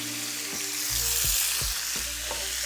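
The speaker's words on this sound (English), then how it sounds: "Now that I got my pan up to heat, we're gonna go ahead and drop in these onions" Sliced onions frying in a preheated pan, a steady broadband sizzle with several soft knocks of a utensil stirring against the pan, close and moderately loud with no talk.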